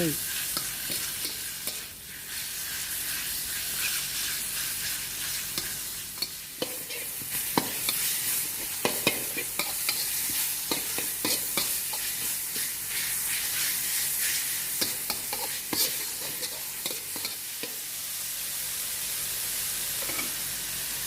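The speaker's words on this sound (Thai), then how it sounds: "ผัดหมูให้สุกดีเลยนะคะ" Pork stir-fries in a hot pan with a constant close hiss and sizzle, broken by frequent scraping and clattering stirs of a spatula throughout, with no voices.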